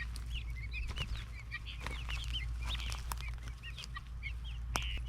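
Guinea fowl give repeated short, chirping calls in quick clusters, moderately close, over a constant low background rumble with occasional soft knocks.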